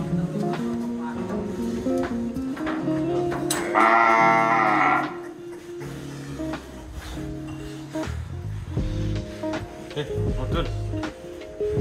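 A cow moos loudly and close by on a farm while people talk, a long sustained low call standing out briefly over continuous conversation.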